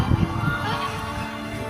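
Ducks give a few short honking quacks at the very start, fairly faint, followed by a quieter murmur of background noise.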